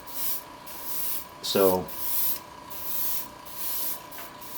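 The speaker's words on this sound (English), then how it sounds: "I'm spraying at about 25 psi out of that brush" An airbrush at about 25 psi sprays paint onto a '34 Ford Coupe scale model car in soft repeated hissing bursts, close and steady, with someone briefly talking.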